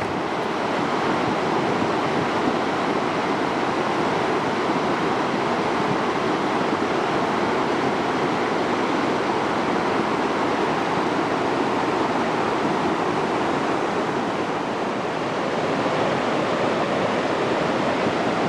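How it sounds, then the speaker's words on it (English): A waterfall in the San Gabriel River canyon, swollen after recent rains, pours with a constant broadband roar, steady and loud throughout with no voices. "Another waterfall, another one."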